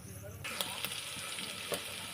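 A tempering of spices hits hot oil in a pot, setting off a sudden bright sizzle that carries on as a steady hiss with a few sharp crackles and clinks.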